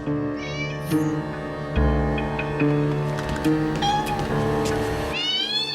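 A cat meows in repeated rising cries over a dense, steady background of music and sound effects, with no speech.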